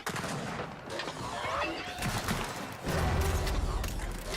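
Gunfire from an Embar rifle in a Gears of War 4 multiplayer match, with loud sharp shots and heavy booms over a busy backdrop of mechanical creaks and clatter and no voices.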